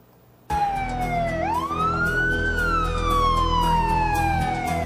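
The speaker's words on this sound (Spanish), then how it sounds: "La sirena de alerta se escuchaba a varias cuadras de distancia." An ambulance siren wails loudly on a street in central Guayaquil, starting abruptly and sweeping in long rising and falling tones, close by over a low vehicle rumble.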